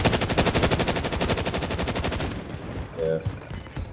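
Rapid automatic gunfire in a video game, a fast regular stream of loud shots for about two seconds that then cuts off, leaving quieter ambient sounds and a brief faint voice.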